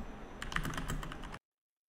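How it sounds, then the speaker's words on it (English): Quick keystrokes on a computer keyboard, a short close burst of typing lasting about a second with no talk. "I'm gonna type like how to query a table and things like that."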